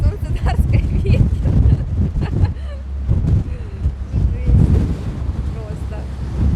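Hurricane-force wind in Gelendzhik roars and buffets the microphone in loud, gusting rumbles that rise and fall throughout.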